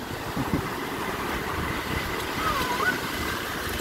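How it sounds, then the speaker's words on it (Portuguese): Sea waves wash up on a beach at Pitimbu, with a steady broadband surf roar and wind buffeting the microphone, while people talk faintly in the background. "a água chegou na piscininha que a gente fez"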